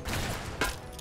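An AK rifle fires in Fallout: New Vegas, a burst of gunfire with one sharp louder crack partway through the brief, noisy clip.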